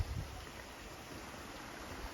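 Spring water welling up and flowing along a small stream in Armenia, a steady, close broadband rushing and gurgling with no break, heard on its own without voices.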